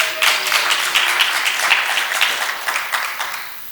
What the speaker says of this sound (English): give yourselves a great big round of applause